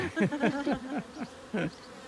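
Close, steady buzzing of honeybees in a queenless hive, the drone wavering up and down in pitch in short overlapping swells.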